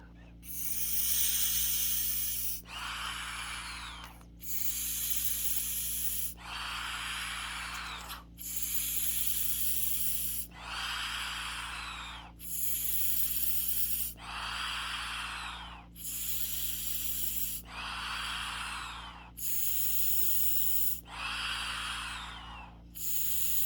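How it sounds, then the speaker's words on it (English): Deep breathing exercise: about ten long, forceful breaths drawn in and pushed out, each a loud airy rush repeating in a steady rhythm close to the microphone. "So you just breathe in."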